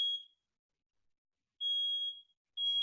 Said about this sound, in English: Somebody's fire alarm, smoke alarm's going off.